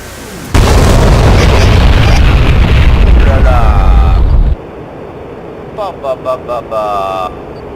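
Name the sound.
GBU-12 bomb exploding on radar station, Mirage 2000C flight video game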